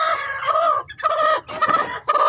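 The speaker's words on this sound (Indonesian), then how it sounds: "Meskipun indukan ayam ini mencari anaknya dan dia protes" A mother hen clucks loudly and close up in protest, giving repeated agitated calls in quick bursts with short gaps between them. No other sounds compete with her.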